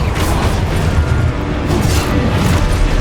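Confringo fire-blast spell in the video game Hogwarts Legacy: loud, continuous rumbling booms and crackling bursts that fill the whole moment without pause.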